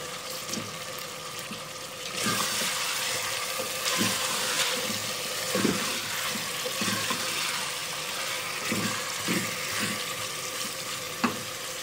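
Chicken pieces fry in oil in a pan for a potato chicken curry, giving a steady close sizzle with soft stirring clinks and scrapes throughout, no voices.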